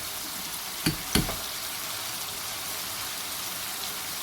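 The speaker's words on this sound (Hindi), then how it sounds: "और इसको फिर क्रीम को भूनेंगे इस तरह से।" Cream frying in a pan for chicken Afghani malai karahi masala, a steady, fairly quiet sizzle with two brief clinks or taps near the start.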